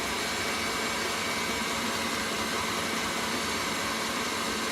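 Electric mixer running at full speed whisking egg whites and icing sugar for Swiss meringue buttercream, a steady loud broadband whirring drone that holds constant throughout with no pauses.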